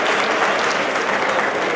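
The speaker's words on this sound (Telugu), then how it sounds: "వారికి ఒకసారి గట్టిగా చప్పట్లతో మనం హృదయపూర్వక ఆహ్వానాన్ని తెలియజేద్దాం." A large audience at a Padmashali association swearing-in ceremony in Nizamabad claps loudly and steadily to welcome an arriving guest. The dense, continuous applause fills the whole stretch with no voice above it.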